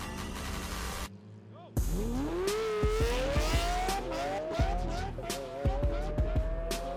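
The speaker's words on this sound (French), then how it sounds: "Robbie s'élance en premier contre une autre Lamborghini Murcielago" Lamborghini Murcielago supercars launch at a race start, engines revving and rising sharply in pitch through the gears, loud and close, with sharp pops and clicks and crowd or commentary voices mixed in.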